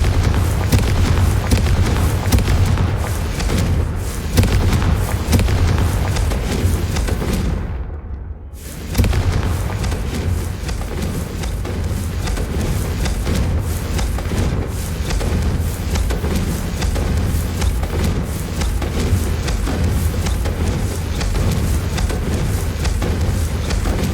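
Spell explosion in the Hogwarts Legacy video game: a loud, sustained rumbling blast that fills the whole span, with a brief sharp dip partway through before the booming roar resumes.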